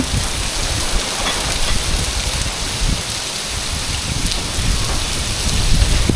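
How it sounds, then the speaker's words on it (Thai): Steady heavy rain pours down, a dense, continuous hiss of drops hitting surfaces, close and loud with no voices. "ถ้าเสียงเสียงที่มันเข้าไปในกล้องเนี่ย ก็คือเสียงฝนนะฮะ"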